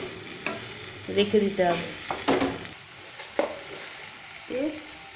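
Banana flower (mocha) is stir-fried in a pan, with the spatula scraping and clattering in short bursts and a light sizzle underneath, while a voice briefly speaks.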